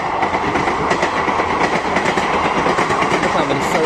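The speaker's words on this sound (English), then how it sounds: "I think we've got a train now going past" A train passing close by on railway tracks, a loud steady rumble with rhythmic clickety-clack of wheels over rail joints, and people talking faintly beneath it.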